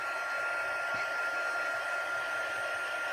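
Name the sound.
heat tool drying stamped paper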